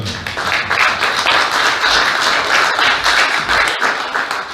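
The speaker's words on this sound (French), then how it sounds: "Si vous voulez bien applaudir notre équipe." Audience applause for a project team at a presentation on a bio-based college building in Mamers, a steady, moderately dense clapping from a room of people.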